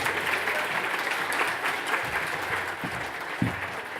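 Audience applause at the close of a talk at an Australian food and agriculture awards event, a dense, steady wash of clapping from many hands that thins slightly toward the end.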